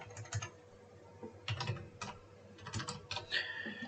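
Fast, light tapping on a computer keyboard while text is entered into a programming form, clicks coming in uneven bursts, fairly faint and with no talking.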